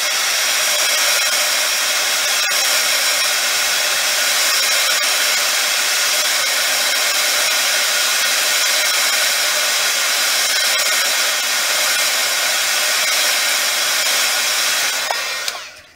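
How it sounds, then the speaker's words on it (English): A heat tool blows hot air onto polymer clay to melt wax for a face transfer, giving a steady, loud, close broadband whoosh that runs unbroken for the whole stretch and cuts off at the very end. "The heat tool is much easier."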